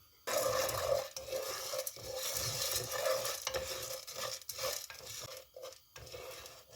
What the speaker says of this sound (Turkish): Bir defa kaşıkla karıştırıp yağa bulaşmasını sağlıyoruz.